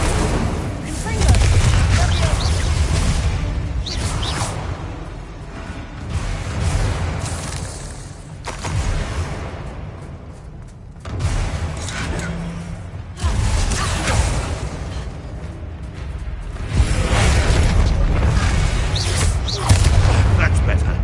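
Spell effects cast in the Hogwarts Legacy video game, Incendio fire and Infringo blasts, burst out as repeated booming whooshes and impacts in a dense combat mix, with voices talking over them.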